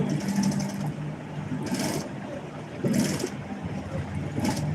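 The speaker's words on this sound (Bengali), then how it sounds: "একটা সুন্দর করে চাপ সেলাই দিব" A sewing machine running in short bursts as it stitches a narrow top-stitch seam, with three or four brief whirring runs over a steady motor hum and faint background voices.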